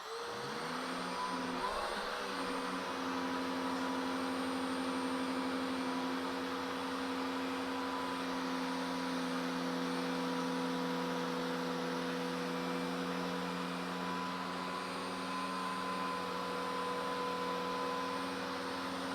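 Rainbow SRX vacuum cleaner sucking up sand from a rug, a loud steady motor whine and airflow roar with a rising start, running continuously and close by.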